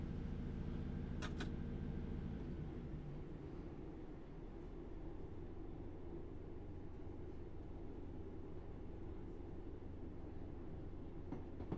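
A Class 156 diesel multiple unit running in Train Simulator Classic produces a steady, loud low rumble of engine and wheels, with a brief faint tone near the start and no talk.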